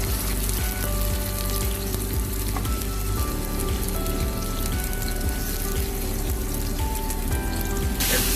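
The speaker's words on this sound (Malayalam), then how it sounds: "അതിലോട്ട് സവാള, നമ്മൾ അരിഞ്ഞു വെച്ച സവാള ഇടുക" Chopped onion hits hot oil already crackling with mustard seeds, a dense, steady sizzle and spatter that runs loud and close for the whole stretch, with no talking.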